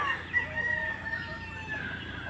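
Chickens and a rooster crowing on a rain-damp, overgrown Filipino farmyard, a sustained high crow running steadily over a constant backdrop of farm ambience with no one talking.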